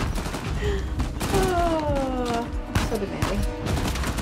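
Gunfire rattles in the video game Uncharted 4 in quick bursts, mixed with swelling game music while a player speaks briefly.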